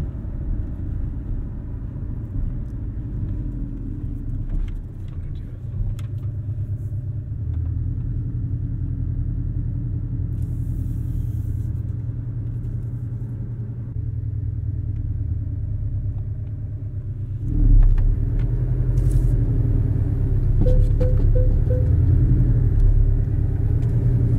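A 2017 Porsche 718 Cayman S drives through corners, its engine a steady low rumble from inside the cabin that swells and grows louder near the end as the car accelerates.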